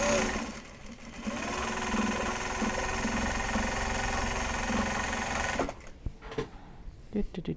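A sewing machine stitches a fabric card holder made from Japanese fabric, running in a steady loud mechanical hum for several seconds, then stopping, with brief handling noises after.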